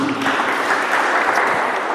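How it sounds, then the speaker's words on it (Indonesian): A church congregation applauds during a sermon, a dense, steady round of clapping that fills the room at moderate loudness. "Tepuk tangan bagi Tuhan kita"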